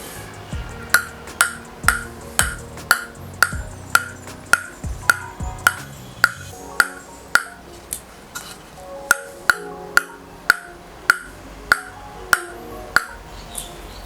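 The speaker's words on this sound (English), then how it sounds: "that's the sound of the bounce test" A DHS 3-star table tennis ball bounces repeatedly on a Fan Zhendong ALC Gold Tag racket, giving about twenty crisp, evenly spaced pings over a quiet background, close and fairly loud.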